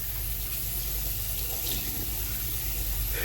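Tap water running steadily into a sink while rinsing off during a self-care wash, a continuous close hiss and splash with no pauses and no talk.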